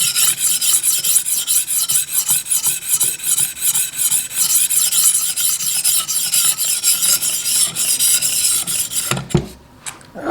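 A knife blade rasps rhythmically against a medium sharpening stone in a TSPROF Blitz guided system, with repeated close, even strokes and a brief pause near the end before the scraping resumes.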